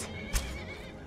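A horse in the Skyrim video game gives a brief, faint whinny over a soft background wash, with a light thump near the start of the call.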